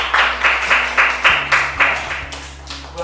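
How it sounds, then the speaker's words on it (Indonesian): A class of children claps in a primary classroom, a short burst of rhythmic, evenly spaced group claps that slows and thins out toward the end. "Betul sekali, tepuk tangan"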